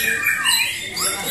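A white-rumped shama (murai batu) at a songbird contest hanging-cage stand gives short, harsh squawking calls close by, with a bright chattering quality running continuously through the brief moment.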